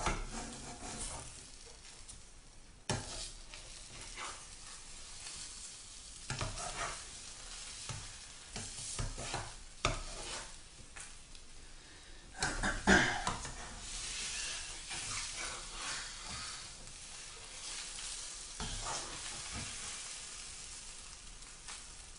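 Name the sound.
six-egg omelette sizzling in a frying pan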